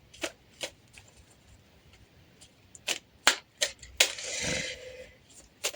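Tarot cards being shuffled and drawn for a reading, with sharp separate card snaps and flicks followed by a longer riffling shuffle, close and fairly quiet, with no talking.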